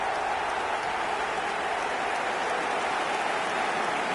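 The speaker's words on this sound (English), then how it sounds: "Even some of the opposing fans are clapping that." A stadium crowd in the eFootball video game breaks into sustained applause after a goal, a dense, continuous wash of clapping with no gaps.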